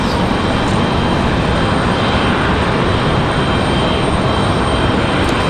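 Delta Boeing 737 jet departing Raleigh Durham on its way to Atlanta, a loud, steady broadband engine roar filling the whole span without letting up.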